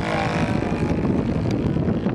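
A Fokker D.VII scale model plane at 1:3.8 scale, with a 2.30 m wingspan and 9.8 kg weight, drones steadily with its English Laser 300 V engine, a continuous loud buzz with wind noise over the microphone.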